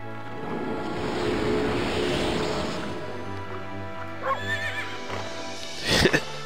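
A horse in the video game Okami HD lets out a loud whinny near the end, set against a steady wash of surf and low ambient tones, with a few brief tonal calls beforehand.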